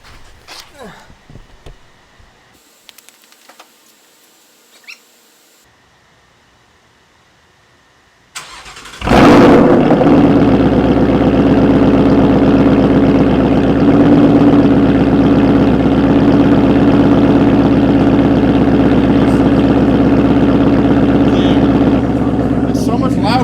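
A Ford Mustang GT fitted with a Corsa Extreme active exhaust cold-starts indoors: after quiet handling sounds and a pause, the engine catches with a sudden loud bark and settles into a deep, loud, rumbling idle.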